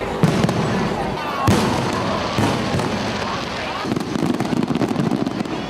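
Fireworks at Palermo's Santa Rosalia festival on the Foro Italico crackle and boom in dense repeated bursts, loud and continuous, with a voice talking over them.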